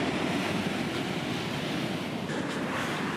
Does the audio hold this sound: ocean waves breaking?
yes